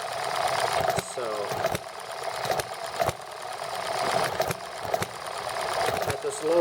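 A horizontal engine running on nitromethane with oil mixed in misfires at a low firing rate, giving a steady mechanical chatter with irregular knocks and skips, close and fairly loud, with a voice over it.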